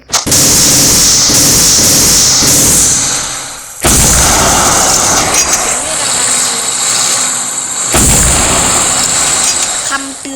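A tank fires in a chaotic video game battle, with loud broadband blasts at intervals. Each shot is followed by a harsh, crackling, noisy roar that fills the whole passage.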